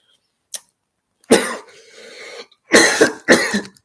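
A brief throat sound, then a loud drawn-out cough with a raspy tail, followed by two more hard coughs close to the listener.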